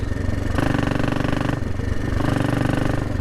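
Royal Enfield Bullet motorcycle with a sidecar, its single engine thumping steadily in a loud, close rhythmic chug with slight swells in revs.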